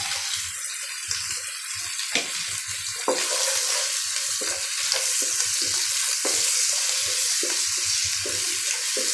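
Cumin and black cumin sizzle in oil in a pan, a steady bright hiss that grows louder partway through, broken by scraping and clinking of a stirring utensil.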